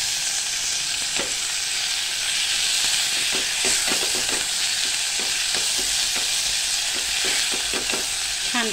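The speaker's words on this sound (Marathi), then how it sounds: "छानपैकी आपल्याला टोमॅटो सुद्धा असा परतून घ्यायचा आहे." A small ripe red tomato is sautéed with browned onion in a pan, sizzling and hissing steadily throughout while a spatula scrapes and taps the pan in irregular bursts close to the microphone.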